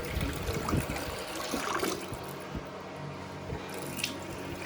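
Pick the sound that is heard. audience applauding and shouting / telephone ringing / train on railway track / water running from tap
water running from tap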